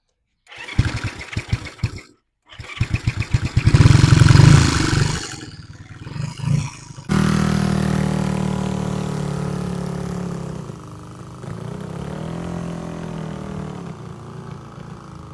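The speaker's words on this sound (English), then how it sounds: "So I'm going to go ahead and fire it up, and let's see if we can take it for a ride." A 1969 Honda CB350 motorcycle engine, run for the first time in decades, is cranked with brief bursts and then fires into a loud, rough, roaring run that holds steady before easing off, up close and with no talk.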